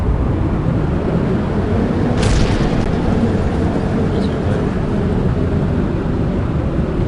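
Small plane taking off in the Kerbal Space Program video game, a steady loud engine roar and rushing noise that holds throughout, with a brief brighter whoosh partway through.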